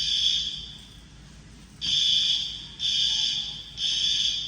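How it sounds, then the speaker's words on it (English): A fire alarm sounds inside a Costco store in Boise, a loud high-pitched electronic tone in repeated pulses about a second long with short gaps between them. "The fire alarm is going off at Costco."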